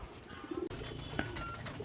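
Pigeons coo softly in a brief, low murmur against steady background noise, faint and somewhat distant.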